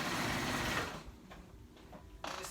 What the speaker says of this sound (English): do a zigzag stitch, and then I cut the end